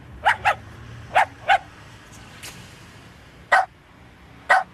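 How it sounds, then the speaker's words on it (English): An old, mangy dog barks in short bursts, a quick pair, another pair, then two spaced single barks, close and loud against a quiet indoor background. "Tarnell, what the hell am I supposed to do with this mangy old dog?"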